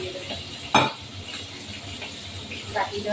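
Fish frying in oil in a pan with water poured in, giving a sharp burst of hiss and clatter near the start, then a steady low sizzle with faint utensil clinks close by.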